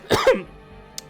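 A single short, hoarse cough rings out close and loud, followed by quiet background hum and a faint click.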